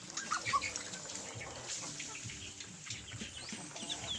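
Chicks and ducks on a farm make a busy scatter of faint peeping, clucking and rustling, with many overlapping small calls nearby and no single call standing out.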